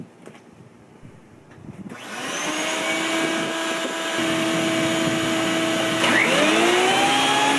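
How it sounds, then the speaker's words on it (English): A vacuum motor whirs up after a few quiet seconds, then runs as a loud, steady drone with a rising whine near the end. "turn on the vacuum"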